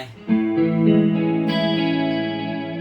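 An electric guitar through a POD X3 Live with chorus effect rings out a shimmering, wavering chord, sustained and layered, strummed again partway through.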